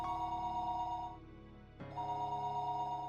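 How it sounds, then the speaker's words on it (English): A telephone rings in the Higurashi When They Cry video game, two clear electronic ring bursts separated by a short pause, loud and alone. "Call sound."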